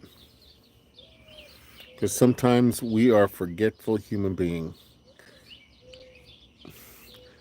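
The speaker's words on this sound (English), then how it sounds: "a bird came to join us with our coffee" A small bird chirps outdoors in short, thin tweets that come before and after a man's speech and continue faintly beneath it.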